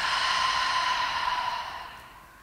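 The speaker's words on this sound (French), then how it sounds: "J'inspire par le nez et j'expire par la bouche." A slow breath in through the nose and out through the mouth during an autumn yoga flow session, heard as a soft, steady airy exhale that fades away, close and alone.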